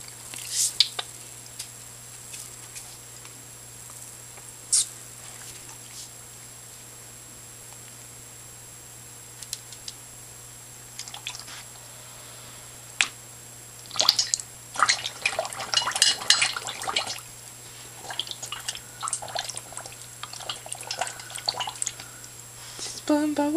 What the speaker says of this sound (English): Blowing bubbles